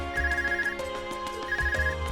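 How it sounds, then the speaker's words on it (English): An Arcus communication device ringing in the video game Trails of Cold Steel, a repeating electronic ringtone with tonal bursts pulsing in a steady rhythm over soft background music. "Is it your Arcus ringing?"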